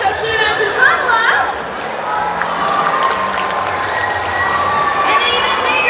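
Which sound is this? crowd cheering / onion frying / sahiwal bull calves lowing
crowd cheering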